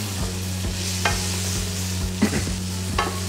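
Tomatoes and small-cut vegetables such as potato sauté in a pan for Filipino picadillo, with a steady low sizzle and a few sharp stirring scrapes and clinks spaced through the clip.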